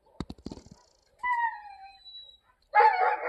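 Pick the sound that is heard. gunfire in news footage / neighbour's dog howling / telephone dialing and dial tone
neighbour's dog howling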